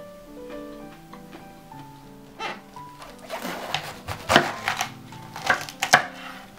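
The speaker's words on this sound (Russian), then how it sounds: "Мы сохраняем кочерыжку и нарезаем вместе с кочерыжкой вот на такие дольки" A knife cuts a head of cabbage into wedges with the core left on, giving a few sharp crunching chops that build toward the end over a soft background of tonal music.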